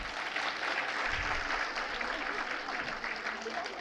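Audience applause at a school foundation day prize ceremony, a steady wash of many hands clapping throughout at moderate distance, with faint talk mixed in underneath.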